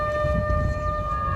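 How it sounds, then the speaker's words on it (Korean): An air raid siren sounding a chemical attack warning during an air force base military drill, a steady loud wailing tone held throughout over low rumble. "적의 화생방 공습을 알리는 사이렌이 울려 퍼집니다."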